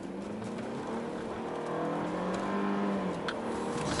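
A Mercedes E250 engine drones steadily and rises in pitch as it accelerates during a test drive, loud and close, with a sustained revving tone throughout.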